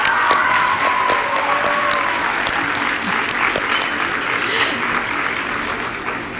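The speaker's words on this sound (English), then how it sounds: "she deserves one big round of applause" Audience gives a high school track and field scholarship student a big round of applause at her letter-of-intent signing, a dense, steady wash of clapping that holds for several seconds and slowly tapers.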